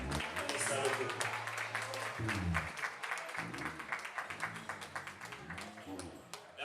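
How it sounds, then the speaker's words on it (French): Guests at a French civil wedding clap for the newly married couple, a lively burst of applause mixed with music-like tones and voices talking over it, fading into scattered claps. "sous vos applaudissements, s'il vous plaît, applaudissements"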